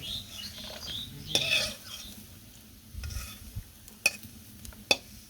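Desi potatoes fry in a pan and are stirred, giving a soft low sizzle with a few sharp scraping clinks of a utensil against the pan, close and fairly quiet.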